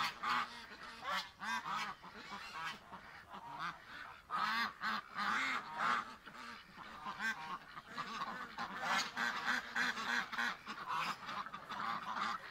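Several geese honk repeatedly at a pen gate, a close chorus of overlapping calls in uneven bursts that carry on throughout without talk.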